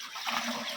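Water is poured forcefully into a new battery at a battery shop, a brief rushing gush of liquid heard alone.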